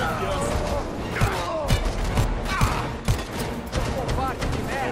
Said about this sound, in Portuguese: 80 mil tiros de minigun na cabeça